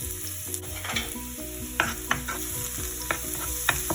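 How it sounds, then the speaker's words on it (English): Finely chopped garlic sizzling in hot oil in a pan for pizza sauce, a constant close frying hiss punctuated by repeated sharp clicks and scrapes of a stirring spoon against the pan, with no voices. "Once oil heat, then add finely chopped garlic."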